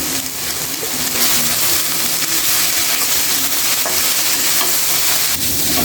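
Greens fry in hot oil with chili and spice paste, giving a loud, steady sizzle and crackle with occasional stirring scrapes and no voices.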